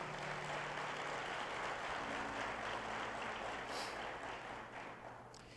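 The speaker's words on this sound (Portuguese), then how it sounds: "Você pode aplaudir o Senhor Jesus?" Faint, distant applause fills a church during a sermon, a steady wash of clapping that tapers off toward the end.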